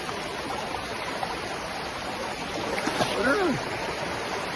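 A cold, knee-deep forest stream in the Konkan rushes steadily nearby, a constant broad wash of sound, with a brief muffled voice sound partway through.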